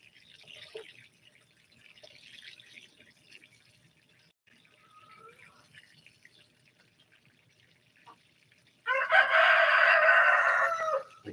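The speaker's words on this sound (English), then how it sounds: "could you stop crowing for 5 minutes, please?" A rooster crows loudly and close near the end, a single long cock-a-doodle-doo after a mostly quiet stretch with faint dripping water and distant fowl sounds.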